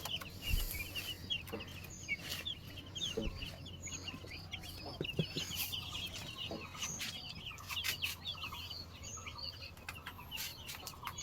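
Hens cluck and chirp inside a backyard chicken coop, a dense chatter of soft calls continuing throughout at low level with a faint steady hum underneath.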